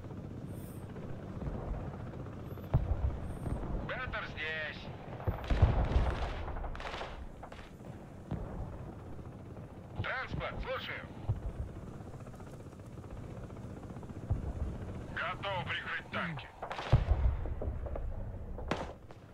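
Helicopter in the strategy video game Broken Arrow, its rotor drone running steadily through the scene amid bursts of distant gunfire and artillery explosions, with no talking.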